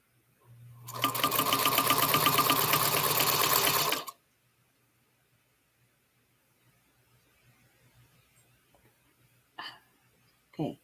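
A sewing machine stitches quilt pieces in one continuous whirring run of about three seconds, close and loud, then stops into near silence broken by a couple of small handling noises.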